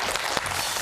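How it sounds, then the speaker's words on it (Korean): Brief audience applause in a broadcast studio, a dense wash of clapping filling less than a second at a steady level without letup. "박수 한번 주시겠습니까?"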